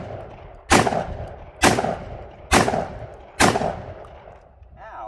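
A gun fires four loud, evenly spaced rounds outdoors, each a sharp crack with a short rumbling decay, and a brief voice follows at the end.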